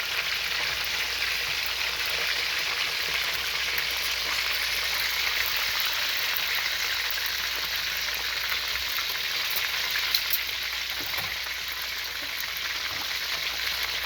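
Turkey drumsticks fry in hot oil with a continuous bright hiss and fine crackling, steady and close, with a few faint pops and no voices.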